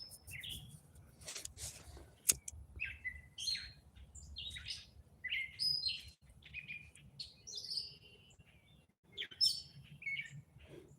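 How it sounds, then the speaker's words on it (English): Small birds chirp and tweet outdoors at a campsite, with bright scattered calls and short phrases near and far, answering each other over a faint ambient background. "I love the birds, hearing them chirping."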